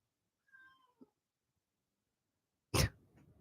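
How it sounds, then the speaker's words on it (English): A short, high meow from a cat, followed a moment later by a sharp, louder cough-like snort; otherwise quiet. "she's meowing a lot."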